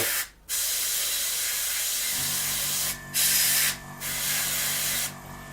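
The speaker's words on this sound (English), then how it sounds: "when you do your airbrushing, try and keep it in the vertical" Airbrush spraying blue paint onto an Airfix 1/48 Sea Vixen scale model, a steady close hiss in several bursts separated by brief pauses.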